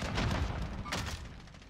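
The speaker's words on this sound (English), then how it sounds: "Je lance une grenade paralysante." A stun grenade thrown and going off in Call of Duty: Warzone, a muffled burst of gunfire-like blasts and booms rolling through the moment, fairly faint, with no talk over it.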